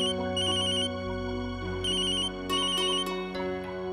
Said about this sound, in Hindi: विशंबर का फोन।